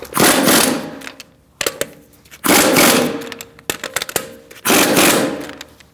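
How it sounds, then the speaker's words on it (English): Three loud bursts of a pneumatic impact wrench with a 17mm socket snugging lug nuts on a 2008-2014 Mercedes-Benz C300 front wheel, each rattling burst lasting about a second, close up with no talk. "Now we're going to snug them up. We're going to do that in a star-like pattern using a 17mm socket."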